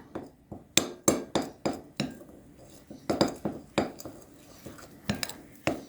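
Egg yolks and whites are mixed with low carb pizza base ingredients in a bowl, with a string of sharp, close utensil clinks and taps against the bowl in an uneven rhythm.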